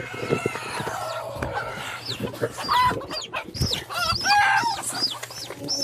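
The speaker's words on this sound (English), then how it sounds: "I had to catch this baby chicken" Chickens and a baby chick cluck, squawk and chirp in a busy farmyard flock, with repeated near calls and a rooster-like cry over rustling movement, no speech.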